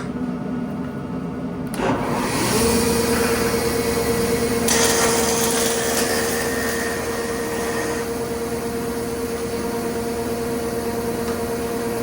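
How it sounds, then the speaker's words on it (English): A dust collector in a woodworking shop switches on and spins up to a loud, steady broadband roar with a faint whine, filling the room at close range without any talk. "Go turn the dust collector on."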